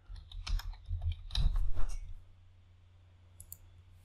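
Someone types a folder name on a computer keyboard, a quick burst of close, light key clicks over about two seconds, then near silence with a couple of faint taps near the end.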